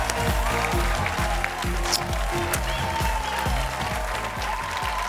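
Sustained applause from a studio audience at a live comedy show fills the room for several seconds, dense and even, with a pulsing low beat of music running beneath the clapping.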